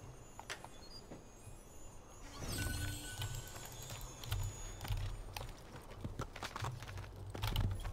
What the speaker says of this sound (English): Oh, there's a horse, wow.